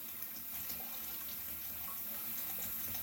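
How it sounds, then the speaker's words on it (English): Tap water running steadily into a container to rinse home-brewing equipment for a California pilsner, a continuous broadband hiss and splash at moderate level with no voices. "Now we'll just fill up our water and rinse all of our goodies."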